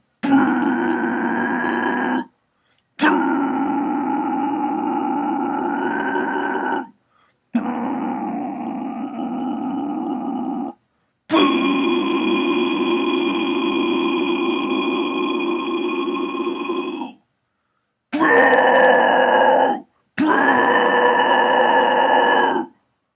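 Low exhaled vocal growls demonstrated as a singing technique, six sustained gritty roars of a few seconds each, separated by brief silences, close and loud.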